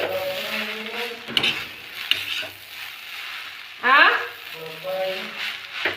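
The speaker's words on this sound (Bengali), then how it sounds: "তো চিনিটা দেওয়ার পর আবারও আমরা ভালোভাবে মিশিয়ে নিচ্ছি" Atta chow mein is stirred in a pan after sugar goes in: a soft continuous sizzle with scraping utensil strokes and a few sharper clinks, while someone talks throughout.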